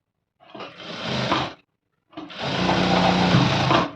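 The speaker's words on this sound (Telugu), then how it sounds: "సో ఇలా ఎగ్గకోకుండా నార్మల్గా పెట్టేసి స్టిచ్ చేసుకోవాలి" A sewing machine stitches crushed fabric lining in two runs, a short whirring burst and then a longer steady buzz after a brief pause, close and fairly loud with no talking.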